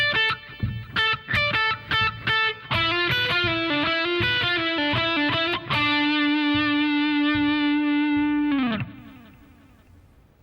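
A distorted electric guitar plays the final phrase of a solo: quick staccato notes, then a run ending on a long sustained note that bends down and fades out.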